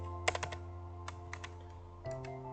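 Keys tapped on a computer keyboard in a quiet room, a handful of light clicks in short irregular bursts over a steady low electrical hum.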